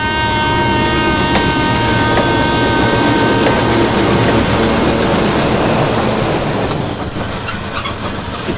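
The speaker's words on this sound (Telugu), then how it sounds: "పదరా రైలు వెళ్ళిపోతుంది" Loud, continuous rumble of a train on the move, with long high-pitched wheel squeals and faint clicks over the steady roar.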